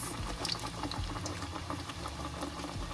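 Battered catfish fillets frying in hot oil, giving a steady, dense bubbling and crackling that stays even and moderately quiet throughout, with no voices.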